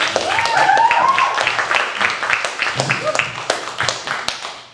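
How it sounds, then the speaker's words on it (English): A crowd claps and cheers loudly for an improv troupe at a live show, the applause swelling early and then thinning into scattered claps before it fades. "give Division 3 Improv one more round of applause"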